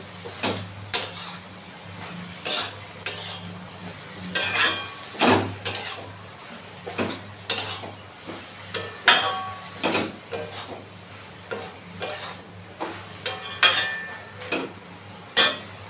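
Cabbage and shrimp curry being stirred and mixed in a metal pan on the stove, a steady run of sharp spoon scrapes and clanks against the pan with a low hum underneath, no talking.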